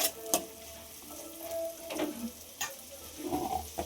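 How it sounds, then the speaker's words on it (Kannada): Finely chopped vegetables frying in a pan for pav bhaji. A low, even sizzle runs throughout, with scattered clicks and scrapes from stirring. "ಇದು ಚೆನ್ನಾಗಿ ಫ್ರೈ ಆಗಬೇಕು."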